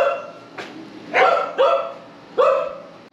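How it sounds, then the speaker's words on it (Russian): A dog barks inside a cheap rental room in the Philippines, giving three or four sharp, loud, close barks spaced irregularly over a quiet background. "Ай, собака."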